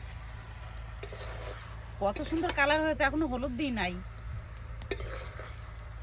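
Chicken pieces from a large Patna chicken are stirred and browned in a crowded wok for a red curry, giving a steady low scraping sizzle that runs under someone talking.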